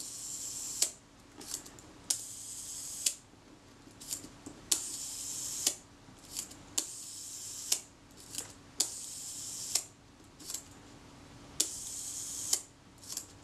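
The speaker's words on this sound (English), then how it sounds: "And the shutter should run." The shutter mechanism of a Kodak Retinette type 017 camera clicks and whirs repeatedly at a steady rhythm, about one crisp release per second, close up with a faint hum underneath.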